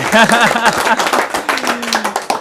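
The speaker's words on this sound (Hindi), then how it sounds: "चलिए एक बार और ताली बजाइए, ये हमारी टीम के लिए है।" Audience clapping for the team at a post-election village panchayat gathering, brisk hand claps mixed with a voice speaking over them, close and fairly loud throughout.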